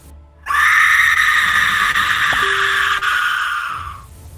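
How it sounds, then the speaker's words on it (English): A loud, sustained scream in a horror night scene, holding steady for about three and a half seconds before trailing off, heard alone without talk. "Scream now gets louder than before."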